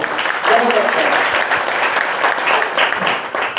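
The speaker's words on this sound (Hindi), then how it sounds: "एक बार अपने लिए शानदार ताली बजा दो।" Loud, close applause fills a hall as an audience at a Hindi motivational talk claps for itself, dense and sustained throughout with a faint crowd murmur underneath.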